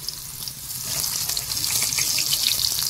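Eggplant slices frying in hot oil on a tawa, giving a steady, close hiss and crackle that swells slightly louder as it continues, with no talking.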